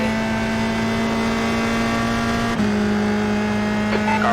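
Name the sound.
race car engine in iRacing video game, USF 2000 at Charlotte Roval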